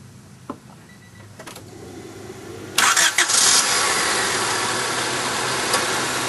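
A car engine cranks and catches, then settles into a steady, loud idle with the A/C running at max while the vehicle's R12 refrigerant system is being charged; faint clicks precede the start.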